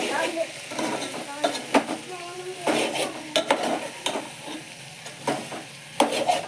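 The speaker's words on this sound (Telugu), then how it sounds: "చాలా బాగా ఫ్రై అయిందండి" Curry sizzles as it fries in a pan and is stirred repeatedly, with scraping spoon strokes arriving in uneven bursts over a constant crackle, close and moderately loud.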